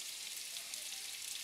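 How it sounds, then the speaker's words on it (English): Sliced red onions sizzle in about a tablespoon of olive oil in a pan, a steady, even hiss of frying that fills the short moment without any talking. "That perfect sizzle."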